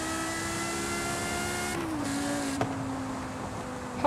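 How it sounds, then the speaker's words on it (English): A high-revving V10 engine in the Forza Horizon 5 racing game, driven through a six-speed manual stick shift, holds a loud, steady drone that dips slightly partway through before resuming. "Sounds like a high revving V10."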